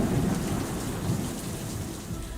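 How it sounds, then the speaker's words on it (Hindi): Heavy monsoon rain pours steadily over hot Mumbai streets, a dense constant hiss with deep rolling thunder rumbling low underneath, loud and close throughout with no voices. "मुंबई की तपती सड़कों पर मॉनसून की पहली बारिश अपना कहर बरपा रही थी।"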